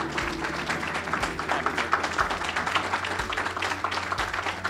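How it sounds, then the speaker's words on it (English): Audience applause for Bob Carr at a Queens College event celebrating a $1 million gift from the Give Something Back Foundation, a steady crowd of clapping hands filling the room at moderate level, with a low murmur underneath. "please give loving, Give Something Back, Queens College applause to Bob Carr"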